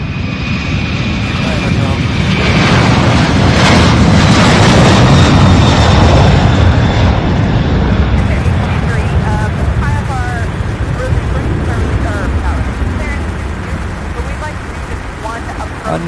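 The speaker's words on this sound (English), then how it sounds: "2 flights took off at the exact same time" Two airliners take off together at Louisville's SDF airport, a loud, sustained jet roar that swells and then slowly fades as they climb away, with no voices.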